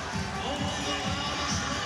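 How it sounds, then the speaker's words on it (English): Basketball arena crowd at VCU's Siegel Center in Richmond, a steady, dense roar of a packed audience filling the space, loud and continuous, with a commentator's voice over it. "it's a great crowd"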